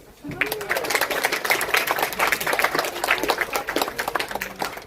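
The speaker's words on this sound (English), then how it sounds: "Can we have another round of applause?" At a Holi celebration event, an audience breaks into a round of applause, dense clapping that starts abruptly and holds steady near and loud, with faint voices and some background sound mixed in.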